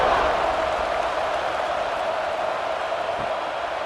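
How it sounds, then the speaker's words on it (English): Stadium crowd in EA Sports College Football 26 before a kickoff, a broad, steady roar of cheering that holds evenly throughout, loud and continuous with no distinct voices. "this crowd now ready to get behind them"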